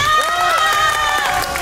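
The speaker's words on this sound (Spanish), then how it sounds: "¡Aplausos para Víctor Hugo y Fiorella!" A studio audience on a Peruvian television show cheering and applauding contestants, a loud, continuous wash of shouts and claps with excited voices rising above it.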